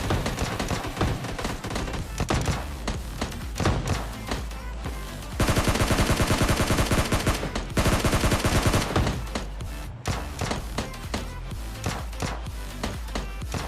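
Sustained automatic gunfire from the mobile battle-royale game PUBG Mobile Lite, loud and dense with rapid bursts running almost throughout, a few brief pauses between volleys and no talk over it.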